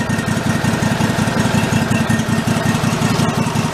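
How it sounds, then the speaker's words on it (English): A garden tractor engine running on its carburetor, a loud, close, steady idle with a fast regular pulsing chug throughout and no talking. "We're running off the carb. Yeah, we're sucking fuel through now."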